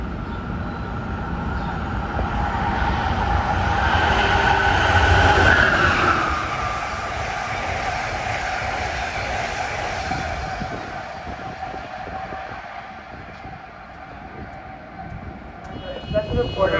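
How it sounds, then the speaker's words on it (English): Amtrak train 93, running from Boston to Norfolk, Virginia, passes on the Northeast Corridor at Linden, New Jersey: a loud rushing roar swells and peaks, then fades into rattling wheels and softer rumble, while someone talks over it. "And approaching is train 93 from Boston to Norfolk, Virginia."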